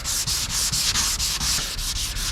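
Rhythmic sanding of primer on a car body, a loud close rasp of abrasive scrubbing back and forth over the hard surface in steady, even strokes.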